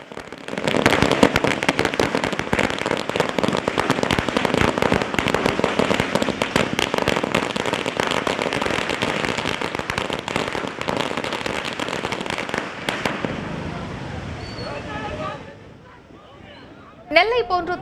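Firecrackers burst nonstop at a Kamaraj birthday celebration in Virudhunagar, a loud dense crackle filling the air for most of the span, then thinning and fading to a few scattered pops near the end.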